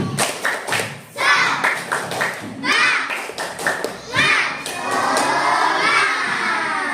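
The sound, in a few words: children clapping a rhythmic spirit clap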